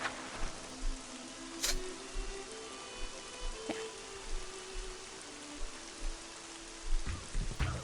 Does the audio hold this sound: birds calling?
no